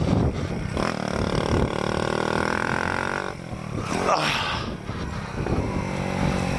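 A Kawasaki Z125 motorcycle engine revs and roars steadily during a wheelie stand-up in second gear without the clutch, a loud, close, continuous drone that rises and dips with throttle changes.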